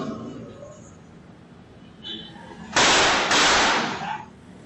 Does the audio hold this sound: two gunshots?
yes